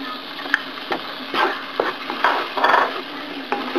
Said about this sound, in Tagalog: igigisa natin sa ating butter yung flour